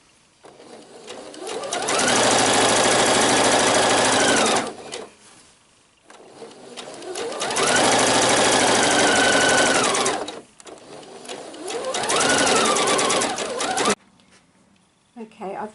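A sewing machine stitches rows of gathering on an elastic summer dress in three loud runs of whirring motor and rapid needle chatter, each starting and stopping with brief quiet pauses between, while someone speaks softly at times.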